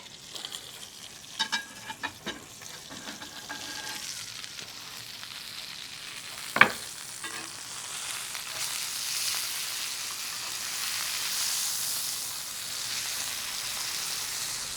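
Steak sears in a Change Moore 13-inch outdoor pizza oven, with clatter and a sharp knock early as the meat is handled, then a steady, building sizzle that carries on to the end.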